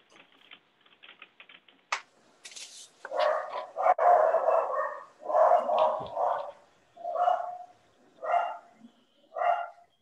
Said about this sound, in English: Puppies are awake.